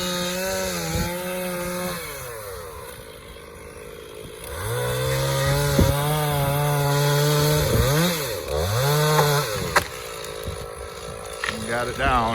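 A Stihl MS460 chainsaw bucks an elm tree outdoors into firewood rounds, its engine revving and bogging in repeated cuts over about twelve seconds, loud and close, with people talking over it.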